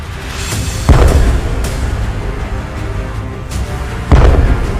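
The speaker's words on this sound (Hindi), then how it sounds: "M46 तोप।" M46 artillery gun firing, two heavy booms about three seconds apart over a loud rumbling background, each blast with a sharp onset and rolling decay.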